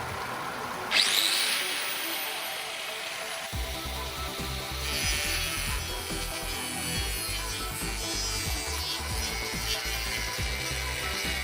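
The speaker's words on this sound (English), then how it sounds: "the angle grinder" A power tool spins up with a sharp high whine, then grinds steadily with a loud, harsh, continuous rasping roar.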